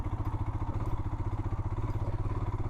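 Motorcycle engines chug past on a mountain road near Palampur, Himachal Pradesh, a close, steady pulsing rumble that fills the whole moment with no voices.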